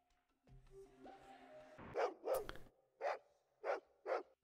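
A dog barks in the retro video game Fallout 2: five sharp, evenly spaced barks follow a brief synthetic in-game tone, loud and close, with no talking.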